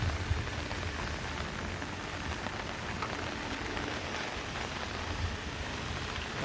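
Steady rain falls outdoors at a sunflower festival entrance, a dense, even hiss of drops on surfaces that continues without a break, with no talk over it.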